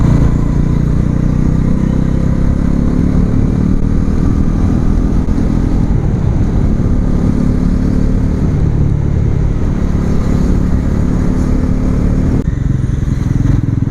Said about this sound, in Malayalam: വണ്ടിക്ക് നല്ല സ്വീറ്റ് സൗണ്ടാണ് കേട്ടോ വരുന്നത്